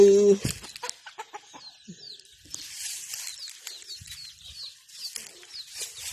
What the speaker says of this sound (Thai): นี่คือไก่นะคะ